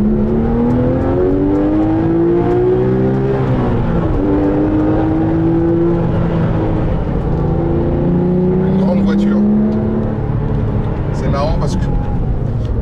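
Porsche 997 GT3 RS 4.0 with its flat-six engine and manual gearbox, heard from inside as the revs climb, dip in a heel-toe downshift and climb again, loud and close beneath a voice.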